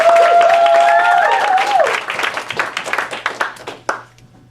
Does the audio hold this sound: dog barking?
no